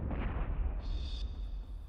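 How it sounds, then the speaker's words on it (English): A bunker-busting missile warhead detonating, a deep rolling boom with heavy low rumble that fades over about two seconds. "the warhead detonates"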